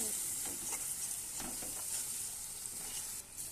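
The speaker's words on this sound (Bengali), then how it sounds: "এবার একটু নাড়িয়ে দিচ্ছি।" Oil sizzles steadily in a pan of frying spices while a spoon scrapes and stirs in a few uneven strokes; no one speaks.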